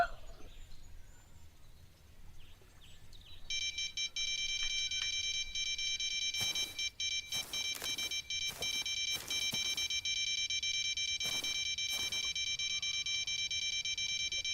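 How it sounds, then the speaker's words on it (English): A fishing bite alarm in the Fishing Planet video game sounds as a sustained, high electronic tone, broken by several short gaps and quick pulses, fairly faint against a quiet background. "That registered on the bite alarm, but nothing major."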